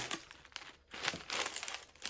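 A plastic packet crinkles and rustles up close during an unboxing of parcels, in two bursts of crackling handling separated by a short gap, with no talking.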